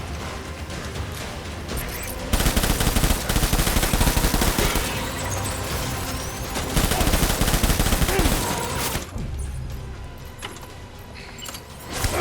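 Sustained, dense gunfire from the video game Death Stranding, loud and continuous, with rapid automatic bursts and clattering mechanisms, swelling and easing over time, with no talking.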